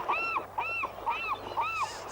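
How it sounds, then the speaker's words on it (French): A seagull calls four times in a steady, evenly spaced series of sharp, arching cries, close and clear against a quiet background. "Ça, c'est une mouette."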